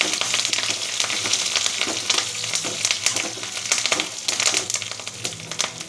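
Cumin seeds, dried red chillies and curry leaves fry in hot oil for a raw mango roti pachadi, giving a dense, steady, close crackling sizzle with constant spitting pops and no voices.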